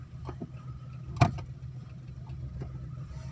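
A car engine idles in neutral during a driving lesson, a steady low rumble running throughout, with a few faint clicks and one brief sharp knock near the middle; no speech.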